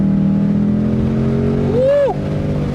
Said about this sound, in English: we're finally at a point where the road is open and we can give her a little throttle